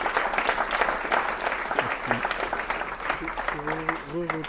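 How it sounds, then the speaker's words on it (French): An audience at a conference claps steadily, while voices talk and call out over the applause toward the end. "Je pense qu'on va l'applaudir."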